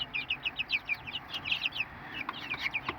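Free-ranging backyard chickens clucking outdoors before heading to the coop, a quick run of repeated soft clucks, close and moderately loud over a quiet background.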